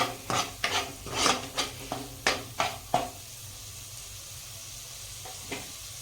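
Spices roast in hot oil after the water cooks off, for Gujarati bhungla batata, about eight quick rhythmic stirring scrapes over a soft sizzle, then a faint steady hiss alone.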